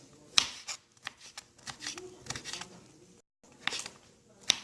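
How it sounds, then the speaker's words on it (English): Quiet, irregular knife taps on a cutting board, with soft scraping between cuts and a brief silent gap near the end. "once you start chopping like a lot, you just get into the rhythm"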